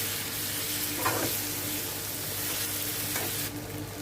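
Lemon and dates pickle is stirred in a pan over a low flame. A steady close sizzle is broken by a couple of scraping stirs.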